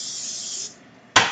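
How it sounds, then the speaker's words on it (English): Pam cooking spray hissing from the can onto a preheated pan, one steady spray lasting over half a second, then a pause and a second short burst, close and clear with no talk. "You're going to Pam spray it."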